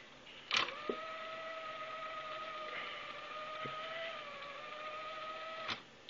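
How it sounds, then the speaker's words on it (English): A cassette tape deck rewinds with a thin, steady whine that holds level for several seconds, bracketed by mechanical clicks at the start and end, quiet and close with no talking. "I'm gonna rewind the deck here."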